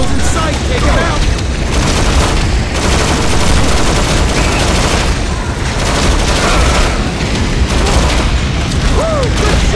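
Gunfire and heavy booms from the mobile shooter game Modern Combat 4: Zero Hour fill a dense, loud battle mix, with shots and explosions layered over game dialogue throughout.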